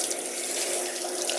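Kitchen tap running cold water, a steady close splashing hiss with no talk over it.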